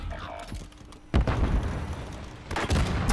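A sudden loud blast erupts after a quieter start, followed by rumbling noise and a second burst, sounding like explosions up close in Warzone.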